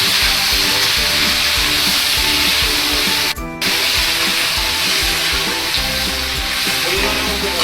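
Loud, steady sizzling of chilli chicken frying in a pan as water is poured in, with a brief burst of hissing steam partway through and continuous crackle throughout.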